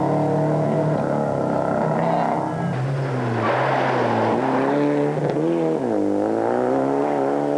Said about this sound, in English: the Renault sounding just as sweet as ever